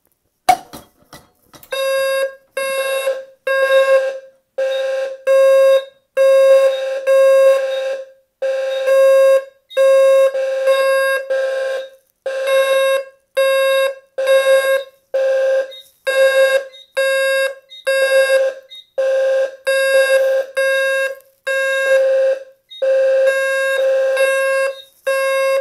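A fire alarm sounds after a Simplex MS-301C pull station is activated, giving loud, steady pulsed bursts in a regular on-off rhythm for the whole stretch, with no talk.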